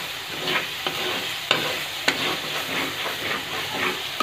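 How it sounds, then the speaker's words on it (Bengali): A spice paste for tuna fish curry fries in hot oil with a dense, continuous sizzle, while a utensil scrapes and knocks against the pan every second or so as it is stirred. "এবার মশলাটাকে ভালো করে ভেজে নিতে হবে, কষিয়ে নিতে হবে"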